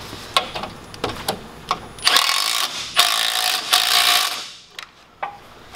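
A 9/16 socket tightens a 3/8 nut while an integrated winch mount is bolted onto a 2015-2018 RAM Rebel bumper: quick ratchet clicks, a few seconds of louder whirring power-tool bursts, then more clicks, close by with no talk.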